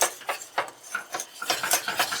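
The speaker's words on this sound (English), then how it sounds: "dump in the 6 tablespoons of flour and start stirring" A spoon scrapes and stirs flour into melted butter in a pot for a roux, a series of short rhythmic scraping strokes, close and fairly faint, with no talking.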